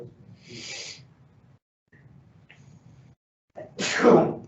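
A single short sneeze, fairly close and loud, near the end after a few quiet breathy noises.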